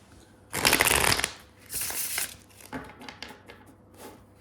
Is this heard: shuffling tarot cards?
yes